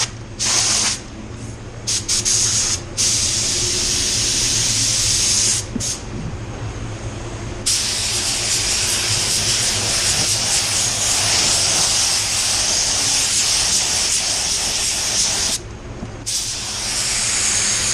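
Spray gun painting a Tesla car, with loud continuous hissing bursts separated by short gaps between passes over the panels.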